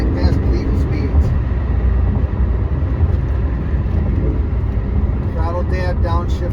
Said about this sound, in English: Sliding throttle application in sixth gear, and you'll roll right past legal speeds.